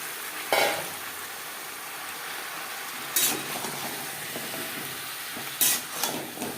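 Pointed gourd and potatoes frying together over medium flame, a continuous hiss broken by three bright bursts as the pieces are stirred and tossed.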